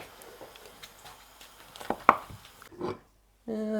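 A knife cuts through pork sausage quesadillas in a pan, giving a few soft, close slicing crunches before a voice begins talking.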